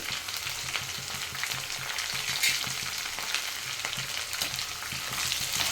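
Chopped green chillies sizzle and crackle steadily in a hot pan for tomato gojju, with a dense continuous frying hiss and occasional stirring scrapes close up, and no voices.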